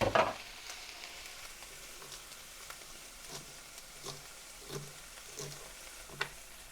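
Chicken with onions and vegetable stalks sizzling and frying in a pan, a steady soft crackle broken by periodic scraping stir strokes, close but fairly quiet, with no talk.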